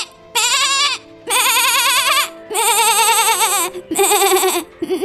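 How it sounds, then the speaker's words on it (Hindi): A goat bleats after being slapped on the face, giving four long, loud, wavering bleats in quick succession with short gaps between them, close and clear with no talk over them. "भोलू बकरी के पास आता है और उसके मुंह पर एक जोरदार तमाचा लगा देता है"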